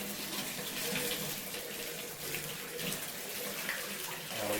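Shower water runs in a continuous loud hiss and splash for a pressure test in a home bathroom, steady throughout with no voices.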